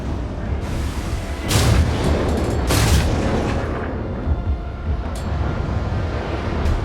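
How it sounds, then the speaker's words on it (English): Secondary guns on a warship in a naval video game fire at another ship as they close head-on, giving a few heavy booming blasts over a constant low rumble of engine and wind noise. "there's his secondary guns are opening up on me"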